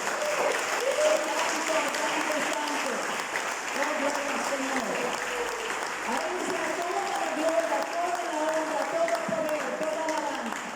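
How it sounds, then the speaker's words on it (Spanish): A church congregation applauds warmly and steadily, a dense sustained roar of many hands, with voices and singing-like tones carrying over the clapping throughout. "Podemos darle un aplauso a ese Dios maravilloso."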